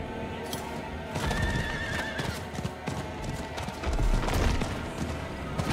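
Hooves clip-clop steadily beneath a horse's whinny in the Diablo IV video game, a continuous riding loop set against a dense, busy game soundtrack.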